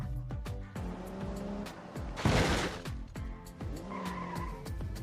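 Simulated car crash impacts in BeamNG Drive, a run of sharp thuds and crunches with tire skids and a louder burst of grinding noise midway, all loud and close with no talking.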